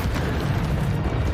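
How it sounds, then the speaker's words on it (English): Exploding barrel blast in Hogwarts Legacy, a dense rumbling boom that fills the short moment at steady loudness with no speech over it. "I don't know where I got an exploding barrel from, but that's pretty cool."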